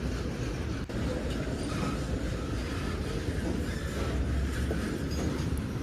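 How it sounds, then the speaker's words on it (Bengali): An oil tanker freight train passes close by a level crossing, a loud continuous rumble and rattle of wagons rolling steadily past without pause. "এটা তেলের ট্রেন।"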